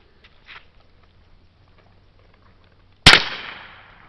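.22 shot shells fire at truck body armour, with a single sharp, loud gunshot and a short decaying ring after a quiet stretch of faint shuffling.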